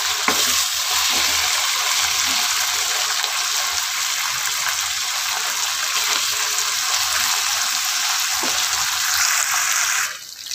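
Steady, continuous sizzling of fermented pekasam fish frying in a hot pan, loud and unbroken for several seconds, with no voices.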